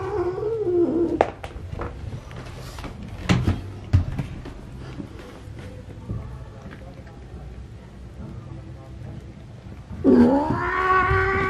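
A cat giving birth to a breech kitten yowls in strained, drawn-out cries near the start and again at the end, with rustling and shuffling noises in between.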